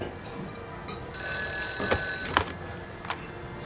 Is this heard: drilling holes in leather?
no